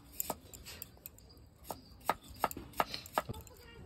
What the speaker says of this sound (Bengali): নতুন আলু এইভাবে বটির পেছন দিয়ে খুব সুন্দর ছুলে যায়